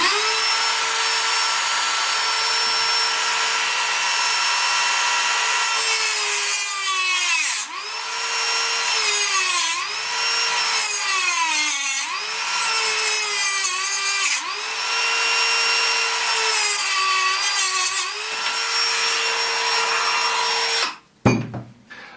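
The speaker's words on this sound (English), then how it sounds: "I just fire up the Dremel." A Dremel rotary tool cuts into a Hot Toys 1/6-scale T-1000 figure with a steady, close, high-pitched whine that repeatedly sags in pitch as the bit bites into the material. It runs for about twenty seconds with no talking and ends in a short clunk.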